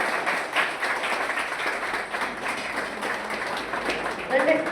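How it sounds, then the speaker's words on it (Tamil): An audience claps for former soldiers, Kargil war veterans among them, at an Independence Day function at the Perundurai regional transport office. The clapping is moderately loud and continuous, with faint voices mixed in. "முன்னாள் ராணுவ வீரர்களை கைத்தட்டி உற்சாகப்படுத்துமாறு கேட்டுக்கொள்கிறோம்"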